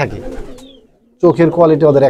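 A prize-winning Nafis-breed pigeon coos up close in loud, throaty bursts, with a brief pause before a second run of rolling calls.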